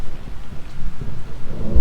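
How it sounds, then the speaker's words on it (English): Heavy rain with a deep rumbling underneath, loud and close, lasting only a couple of seconds. "it just started raining"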